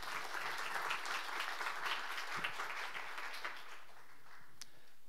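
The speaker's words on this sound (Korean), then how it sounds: "박수로 맞이해 주십시오" An audience at a social venture ESG conference applauds as a presenter comes onto the stage, with broad, somewhat distant clapping that holds for about three seconds and then thins out.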